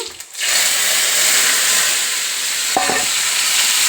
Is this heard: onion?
yes